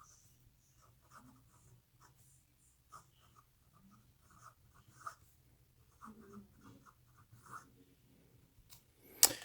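Merlin 33 fountain pen writing on paper with a pencil-like scratchy feedback, soft intermittent scratching strokes close up in a quiet room, ending in a brief sharp noise.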